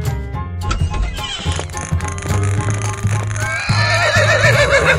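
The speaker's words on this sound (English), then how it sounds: "Horse." A horse whinnies loudly over busy, dense background sound with thumping beats and other animal-like noises, the neigh's wavering cry rising clearly in the final second.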